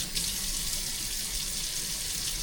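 Water running steadily from a kitchen tap while cooking a bison and egg breakfast, a continuous close hissing stream with no talk over it.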